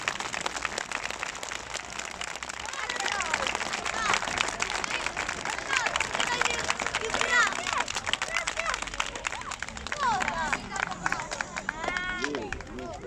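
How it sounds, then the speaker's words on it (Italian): A crowd gives children encouraging applause at a school peace event, a long, dense, rain-like clatter of many hands with children's voices and cheers woven through it. "facciamo un applauso tutti insieme a questi bambini di incoraggiamento"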